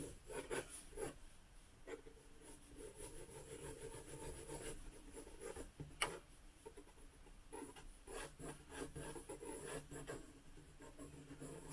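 Pencil loosely sketching flower shapes on paper for a mixed-media floral piece, soft close scratchy rubbing strokes in irregular bursts, with no talk.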